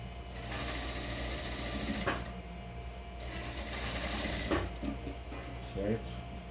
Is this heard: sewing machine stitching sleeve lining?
yes